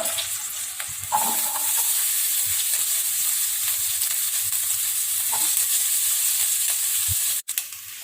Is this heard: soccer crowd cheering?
no